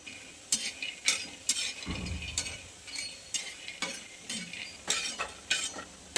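Ingredients for a fasting-day dish are dry-roasted in a pan, with rhythmic spatula scrapes and light clinks repeating every half second or so over a faint sizzle, close by and without speech.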